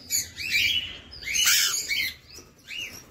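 Birds calling inside an aviary, a run of bright chirps and tweets in short bursts, fairly close and clear with no talk over them.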